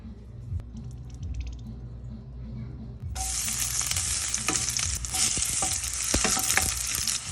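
Soy-marinated pork hits a hot pan for adobo and bursts into a loud, steady sizzle about halfway through, continuing with stirring and crackling after a quieter start.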